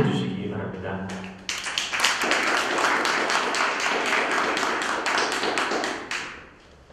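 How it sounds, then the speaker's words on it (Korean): Audience applause welcoming a speaker at a Korean lecture event, a loud sustained burst of clapping from a crowd that starts after a short spoken introduction and fades out near the end. "큰 박수로 맞이해 주시기 바랍니다."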